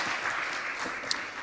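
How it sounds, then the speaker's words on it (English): Audience at a global cyber capacity-building conference applauding the panelists, a dense wash of clapping from many hands, steady and moderately loud for a brief moment. "Please join me for a round of applause to our distinguished panelists."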